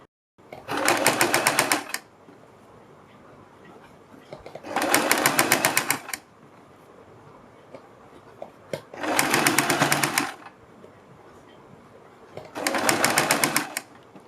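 A sewing machine stitches a kurti neckline in four separate bursts of about a second and a half each, close and fairly loud, with quiet pauses between runs.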